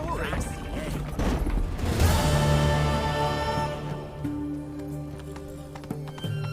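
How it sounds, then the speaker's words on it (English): Horse hooves in The Witcher clip-clop at a steady pace under game background noise, with an occasional whinny-like tone and mechanical clatter, moderately loud and close. "voy a coger el caballo"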